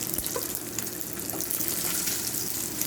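Fish pieces frying in hot oil give a steady, dense sizzle and crackle, moderately loud and continuous, with no voices over it.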